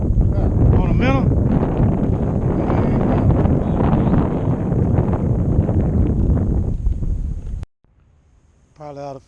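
Wind buffets the microphone on a small fishing boat out crappie fishing, a loud continuous roar with voices speaking over it, cutting off abruptly near the end before a brief voice returns.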